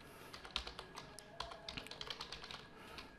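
Rapid, uneven keystrokes tapped on a computer keyboard while entering a default gateway setting in a network lab, close and fairly quiet, with no talking.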